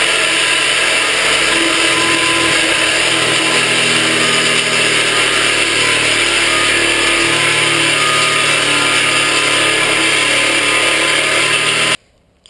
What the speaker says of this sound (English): Metal cutting blade, again Ryobi jigsaw, it's not very good at all.